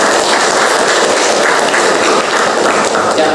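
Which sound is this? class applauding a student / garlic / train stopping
class applauding a student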